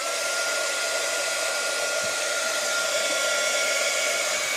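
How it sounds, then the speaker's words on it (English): A loud, steady blowing hiss from a heat embossing tool running continuously at close range without pause. "Grab in your heat tool"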